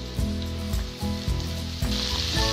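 Fenugreek leaves tossed onto half-cooked, spice-coated potatoes in a hot pan, giving a loud continuous sizzle with a steady hum and repeated scraping strokes, close and with no talking.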